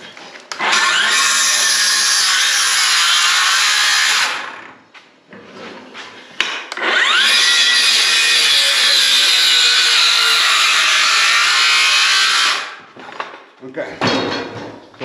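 A jigsaw saws through a wooden board while stair stringer corners are cut, two loud continuous buzzing cuts of about four and six seconds separated by a short pause, ending with a brief burst.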